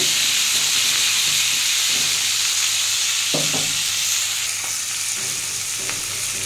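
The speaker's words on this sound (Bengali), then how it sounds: "আমি এর মধ্যে একটু পেঁয়াজ আর টমেটো দিলাম, এটা ভালো করে ভেজে নেব।" Onion and tomato fry in a pan with chilli for a bitter gourd curry, giving a steady broadband sizzle and hiss with a few soft stirring knocks, close and continuous, with no talking.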